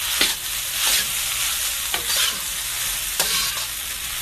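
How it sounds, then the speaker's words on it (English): Rice frying in a pan, steadily sizzling while a utensil stirs and smashes the clumps against the side, with a few sharper scraping strokes spaced through the loud, continuous hiss. "smash the clumps of rice along the side here and they'll break up"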